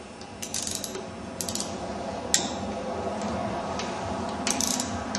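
A wrench turns fasteners on a motor case while the case of a crank is being split, making short bursts of close ratcheting clicks with pauses between them.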